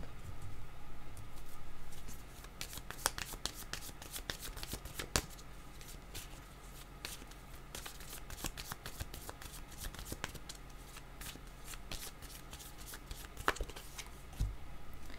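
Playing cards being shuffled by hand for a tarot-style card reading, a steady run of crisp riffling and soft slaps that continues through the whole stretch at close range, with no voices.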